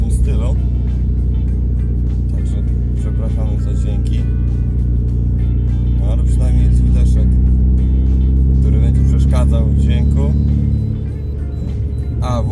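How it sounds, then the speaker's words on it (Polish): A Volkswagen Passat B5 with a 1.6 LPG petrol engine of 100 hp gives a steady close engine drone with a faint whine as the revs fall, continuous and fairly loud throughout. "Passat trochę wyje, na, jak się schodzi z obrotów."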